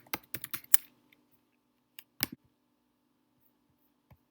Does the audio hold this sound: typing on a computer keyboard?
yes